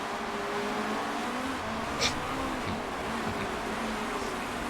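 Race cars roar in the Motorsport Manager racing game, a steady, moderately loud engine whine that rises and falls slightly as the cars run, with no voices over it.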